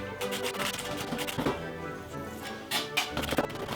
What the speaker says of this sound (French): on passe à l'ail. Couteau blanc bien sûr, on émince, on réunit, concasse grosso modo